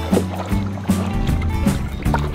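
A canoe is paddled through shallow water, with rhythmic paddle strokes splashing close by roughly every half second over a low background rumble.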